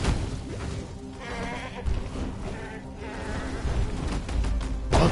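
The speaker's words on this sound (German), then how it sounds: "Natürlich wieder Ziegenmänner." Goatman shamans in Path of Exile bleat and squeal in a loud, dense game scene, wavering goat-like cries layered over busy combat noise, close and continuous with sharper bursts near the end.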